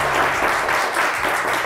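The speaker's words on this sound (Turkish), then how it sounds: "Sizi alkışlıyorlar." Studio audience applauding on a televised word-game quiz show, a steady dense wash of clapping that holds loud and continuous without a break.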